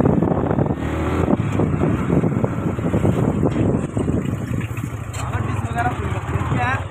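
Yamaha R15 V4 motorcycle on a test ride, a steady, loud engine and road roar running throughout with wind buffeting, while voices talk over it.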